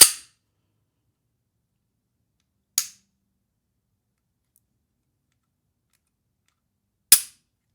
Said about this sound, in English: The take-up is really short. And then there's the break. Reset.